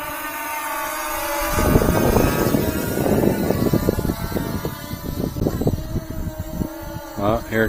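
Bwine F7GB2 camera drone flying in to land on a windy day, its whirring rotor buzz growing nearer over steady wind rumble, with a person talking over it.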